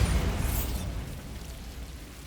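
A Bombarda explosion spell goes off in Hogwarts Legacy, a loud booming burst with a bright crackling edge that decays into a lingering low rumble and debris-like hiss.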